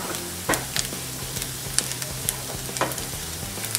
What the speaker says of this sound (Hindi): ये 1 मिनट के लिए हमने प्याज और लहसुन को बटर में भून लिया है